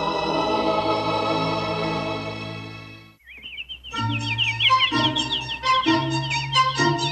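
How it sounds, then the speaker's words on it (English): A bird chirps in rapid repeated bursts after a sustained musical tone cuts off, the clear tweets coming in short rhythmic phrases close up and with no talk. "Is it a bird?"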